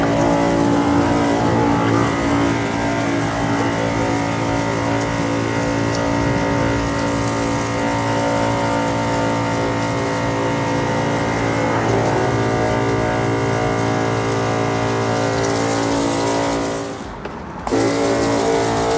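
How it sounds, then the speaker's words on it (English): A Fanttik NB8 Nano portable pressure washer cleans a dirty patio, its motor and spray giving a continuous loud, dense hum with a tonal buzz, briefly dipping near the end, with no talking. "It's not like your typical high-powered PSI pressure washer, but it does the job for surfaces"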